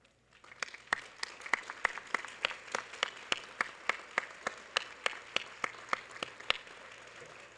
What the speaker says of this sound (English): Students, please stand and give all those who've helped you get to this moment a round of applause.